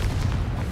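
A Confringo fire blast spell explodes in Hogwarts Legacy, a short, loud, low rumbling boom with no voices over it.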